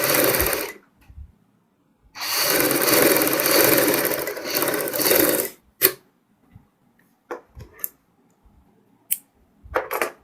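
Sewing machine stitching a kurti strip, two bursts of steady whirring, a brief one then a longer run of about three seconds, followed by scattered clicks and handling knocks.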